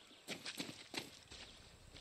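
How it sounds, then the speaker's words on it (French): Horse hooves clopping in Far Cry 6, a few faint, soft steps in quick succession at a distance, alone with no talk. "Ah non, c'est bon, c'est un cheval."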